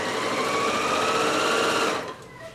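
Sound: sewing machine sewing a straight stitch along a face mask curve

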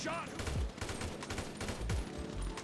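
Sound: gunfire in the video game GTA V

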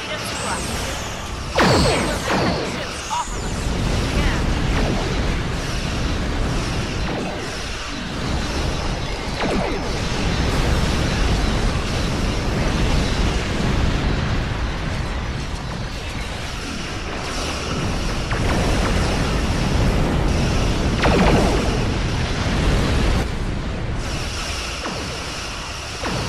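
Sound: protomatter torpedoes launching and exploding, Star Trek battle

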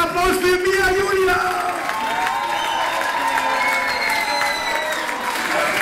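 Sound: audience applauding and cheering at a concert

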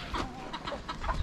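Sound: chickens clucking on a farm

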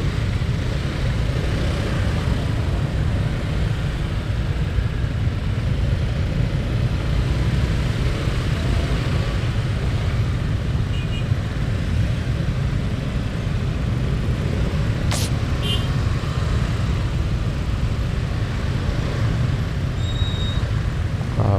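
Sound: traffic jam on the road to Monas

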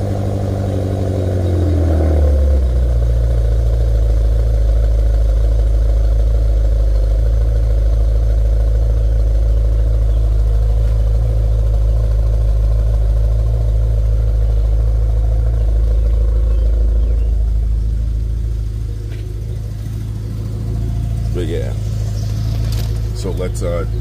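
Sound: BMW E70 X5M engine cold start idling

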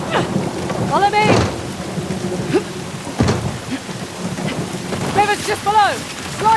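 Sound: pouring rain and thunder, from video game Uncharted: The Lost Legacy

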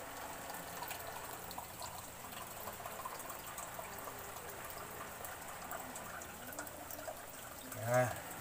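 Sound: water poured into soda bottles

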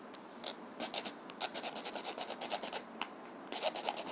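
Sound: cutting plastic wire casing piece with saw or knife

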